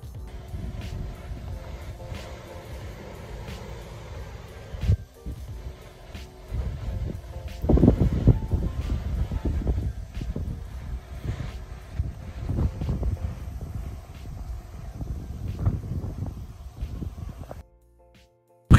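Strong wind outdoors buffets the microphone in uneven gusts, a low rumbling roar that swells and eases for most of the stretch before dropping away near the end, with no talking.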